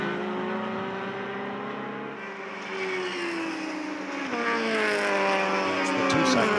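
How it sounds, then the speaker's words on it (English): A 2-cycle powered prototype race car with several exhaust pipes at an SCCA race passes with a loud, buzzing engine whine that rises in pitch as it accelerates, close by and alone. "That's the 2-cycle powered car."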